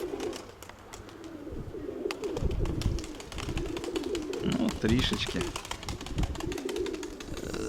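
Pigeons coo in soft, repeated bursts outdoors in a light breeze, with scattered sharp clicks and rustles. Someone speaks quietly over them.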